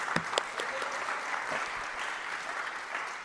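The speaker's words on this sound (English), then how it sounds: "Please give my panelists a round of applause." Audience at a faith-based affordable housing panel applauds the panelists, a steady wash of clapping from a roomful of people with no voices over it.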